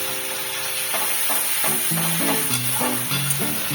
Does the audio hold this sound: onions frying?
yes